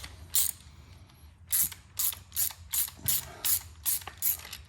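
A ratchet wrench backs out a red-Loctited bolt from the Sport Chief forward controls mount in quick bursts of clicking, about eight close, loud strokes in a regular rhythm with short pauses between them.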